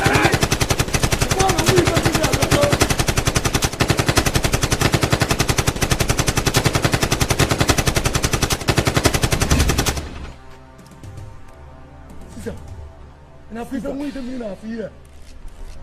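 Rapid automatic gunfire rattles loud and continuous for about ten seconds in a Nigerian action movie scene, then cuts off, leaving quieter background sounds and shouting voices.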